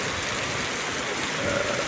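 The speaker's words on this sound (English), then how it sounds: "It is raining heavily, and it is really enjoyable." Heavy rain falling at midnight in Bandhavgarh National Park forest, a steady dense hiss of drops on foliage and ground, continuous and even throughout with no voices.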